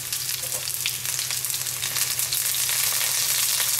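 Salted, drained eggplant frying in oil for Sicilian caponata, a close, dense crackling sizzle that holds steady and grows slightly louder, with no voices.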